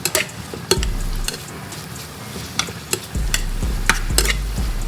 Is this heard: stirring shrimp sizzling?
yes